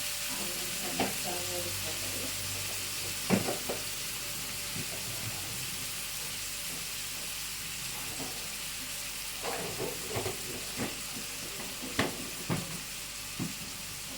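Fish curry sizzles softly in a pan with a constant frying hiss, broken by scattered scrapes and clinks of stirring, fairly quiet and close.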